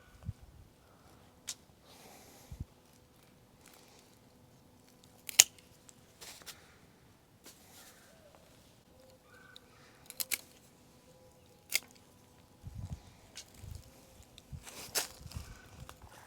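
Pruning shears snip through woody panicle hydrangea stems outdoors, sharp isolated clicks spaced several seconds apart, fairly close and crisp, with light rustling of branches between cuts.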